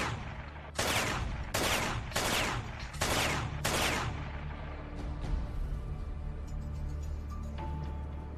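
Gunshots fired at bottles: five loud, sharp reports in quick, even succession, each with a brief echo, followed by a fading reverberant tail with no voices.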